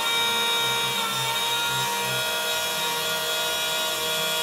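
A power drill whines continuously at a steady high pitch, close and loud, with faint grinding underneath and no voices.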